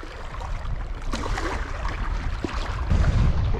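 A strong nor'easter blowing across the water during a fishing outing, a rushing, buffeting gust that roars against the microphone and swells louder toward the end.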